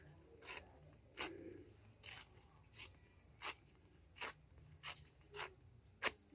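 Scissors snip paper for a homemade pinwheel, about ten crisp, evenly spaced cuts in a steady rhythm, close and clear with no talk over them.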